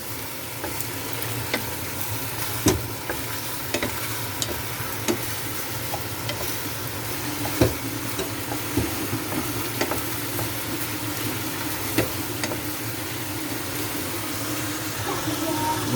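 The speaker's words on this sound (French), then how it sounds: "vous remettez votre viande et vous mélangez l'ensemble avec" Pieces of pork being stirred together with lardons in a sauté pan, giving a steady low sizzle with soft periodic scraping and clinks of a utensil, fairly quiet and without talk.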